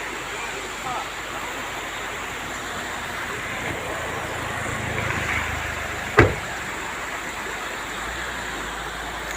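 River water rushing steadily near Aanaivari Falls in Salem, Tamil Nadu, a continuous broad wash of flowing water with one sharp knock partway through.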